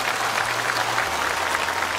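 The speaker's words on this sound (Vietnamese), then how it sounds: "Cho một tràng pháo tay." A temple audience at a Buddhist dharma talk applauds in a steady, dense wash of clapping that holds at an even loudness throughout, with no pauses or voices standing out.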